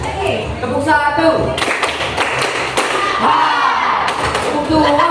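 A group claps hands together on a called count, a few sharp bursts of claps mixed with thumps and a speaking voice over steady room noise.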